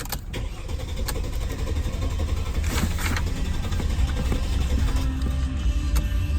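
A Mercedes C230 engine cranks repeatedly without catching at an auto auction, the starter whirring in a loud, continuous churn heard up close, with no voices over it.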